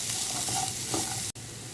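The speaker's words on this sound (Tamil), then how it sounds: "வெங்காயம் கொஞ்சம் டிரான்ஸ்பரண்ட்டாக ஆகிற அளவுக்கு வதக்கிக்கலாம்." Chopped big onion sizzles in a pan with a steady frying hiss, stirred now and then with soft scraping, close and continuous apart from one brief cut.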